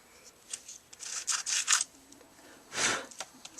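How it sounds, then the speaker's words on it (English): Sandpaper is rubbed over the edge of a small shrink plastic charm in a few short, quiet scratchy passes, followed by one longer stroke. "just grab your sandpaper"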